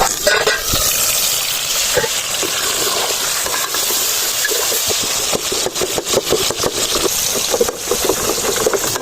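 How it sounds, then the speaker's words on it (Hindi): Chopped tomatoes with salt cook in a covered pot, giving a steady close hiss and bubbling sizzle with scattered soft clicks and stirring knocks throughout, no voices. "टमाटरों को गलाने के लिए ढककर पका लेंगे"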